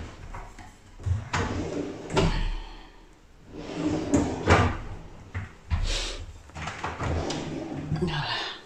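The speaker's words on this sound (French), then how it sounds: "J'ai aussi des tiroirs." Drawers in a newly bought house slide open and shut repeatedly, a series of close wooden thumps and scrapes in uneven rhythm, with a little voice mixed in between.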